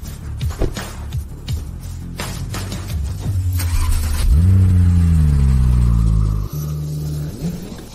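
A car engine revs hard and accelerates through a driving stunt, loud and close, with a rising, sustained roar after a few quieter opening bursts.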